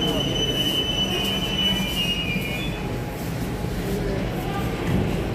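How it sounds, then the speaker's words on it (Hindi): A Delhi metro train arrives at a station with a steady rolling rumble and a high wheel squeal fading over the first few seconds, under crowd noise. "मेट्रो आ चुकी है"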